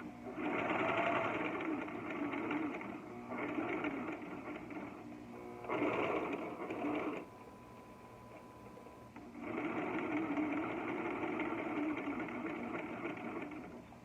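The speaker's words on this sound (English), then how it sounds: "I'm going to stitch back over the start, quite a few stitches" A domestic sewing machine stitches back over a seam near a T-shirt shoulder, running in steady whirring bursts with short pauses and a quieter stretch before a final long run.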